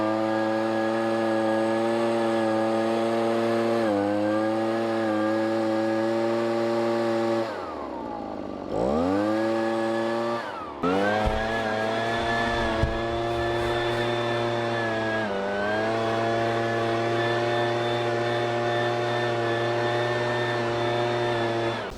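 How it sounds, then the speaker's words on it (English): A Proyama backpack leaf blower and sprayer combo runs its small engine at a loud, steady high drone, dipping and revving briefly midway before settling back to a constant roar, with no talk over it. "So now it's set up as a leaf blower. We're gonna blow some stuff around"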